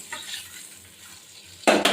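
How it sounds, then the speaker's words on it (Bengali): Katla fish pieces sizzle in hot oil in a pan, a quiet crackle at first, then a sudden loud burst of frying sizzle near the end as the fish is stirred. "এই যে কাতলা মাছটা ভাজা হচ্ছে, ঝিঙে দিয়ে রান্না হবে"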